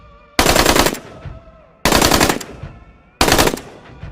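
Three loud, close gunshots from a muzzleloader being sighted in, spaced about a second and a half apart, each a sharp blast with a trailing echo through the woods during hunting season.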